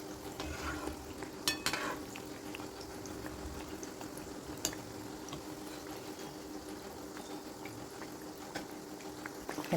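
Badusha sweets frying in a pan of oil for Diwali, a steady low bubbling sizzle with a few brief louder crackles and utensil stirs, close and continuous with no voices.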